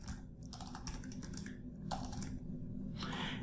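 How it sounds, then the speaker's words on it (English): Close computer keyboard typing in quick bursts of clicks, pausing briefly between short runs of keystrokes as a name is entered, with quiet room tone in the gaps. "I'll just type in an example name here."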